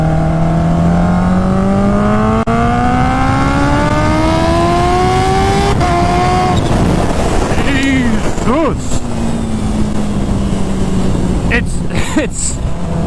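A 300 hp Kawasaki Ninja H2R motorcycle on back roads accelerates hard and loud up close, its engine note climbing steadily through the gears with brief drops at the shifts, then a second surge, with a rider's voice over it.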